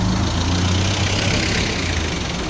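A stock 1.3-litre engine in a 2010 Toyota Vios idles with a steady, even low hum, close by and unbroken.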